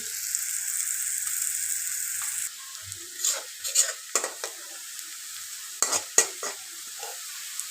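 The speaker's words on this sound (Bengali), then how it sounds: "আর একটু ভালো করে চিংড়ি মাছ ভাজতেছি" Prawns (shrimp) frying in a pan, a steady hiss of oil for the first few seconds, then quieter sizzling broken by several sharp scrapes and clinks of stirring.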